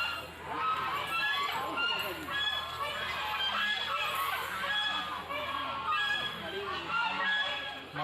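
Many birds call at once inside a zoo aviary in Kanpur, producing a dense, continuous chorus of chirps, squawks and honk-like cries at steady loudness, with faint human voices mixed in.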